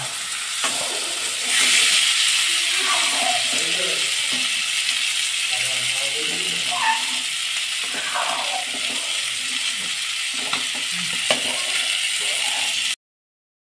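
A spoon stirs masoor dal in a hot pan, giving a steady sizzle with scraping strokes and small clinks, fairly loud and close, and no one speaking.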